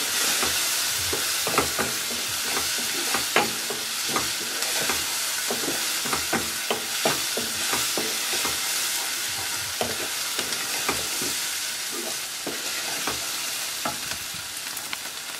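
Masala with ginger fries and is stirred in oil for an aloo gobhi dish, giving a bright, steady sizzle broken by repeated scraping stirs, close and loud with no voices.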